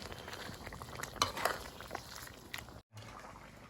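Sliced red chili and fingerroot are stir-fried with young peppercorns in a pan, giving faint, soft scraping strokes of a spatula over a quiet sizzle, with a brief clatter partway through.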